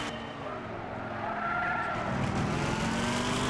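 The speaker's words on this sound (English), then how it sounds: "That sounds like a NASCAR." A Corvette ZR1 American V8 with a sequential manual in a racing game gives a steady engine drone that swells louder, with tire noise building toward the end.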